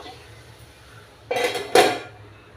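Bean and tomato curry scraped from a pan into a serving bowl, heard as two short bursts of metal spoon scraping and clanking against cookware after a quiet start.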